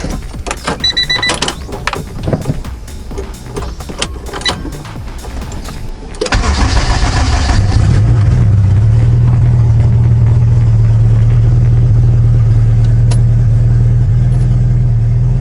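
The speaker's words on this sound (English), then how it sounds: "We're gonna try this startup, see if everything works." Clicks, whirs and brief electrical buzzes come from a Honda Accord converted to all-wheel drive, then the engine cranks and catches at about six seconds and settles into a steady, loud running idle with a low hum.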